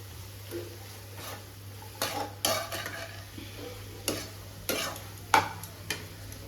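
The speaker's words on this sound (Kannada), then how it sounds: "ಹೀರೆಕಾಯಿ ಅದನ್ನ ಕೂಡ ಹಾಕಿ ಚೆನ್ನಾಗಿ ಒಂದೊಳ್ಳೆ ಮಿಕ್ಸ್ನ ಮಾಡಬೇಕು" Chopped ridge gourd is stirred in a hot cooking pan, with several sharp, irregular scrapes and clinks of the spoon against the metal over a faint sizzle and no talking.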